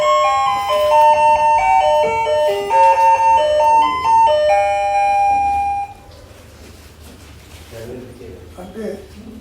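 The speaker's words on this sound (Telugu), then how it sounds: "ఆ కాలింగ్ బెల్ మోగిందంటే అర్థం ఏంటి?" A melodic electronic calling bell plays a loud, bright chiming tune of several notes, then stops, leaving quieter room sound with a voice speaking.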